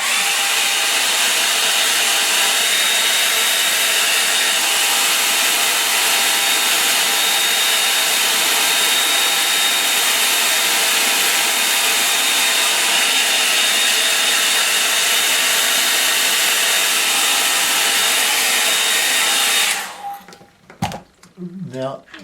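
A hair dryer blows steadily on a wet painting, a loud, close, continuous whooshing roar that runs unbroken for around twenty seconds before being switched off, followed by a moment of quiet handling.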